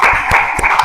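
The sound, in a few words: applause for a student group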